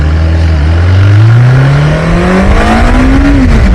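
Yamaha XJ600 motorcycle engine revving loud and close, its pitch climbing steadily as it pulls hard, a strong rising engine note with no voices.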